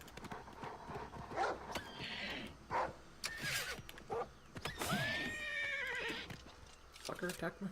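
A horse in the video game Oblivion Remastered whinnies loudly over brisk hoof clip-clops, the calls rising in sharp bursts among scattered game effects.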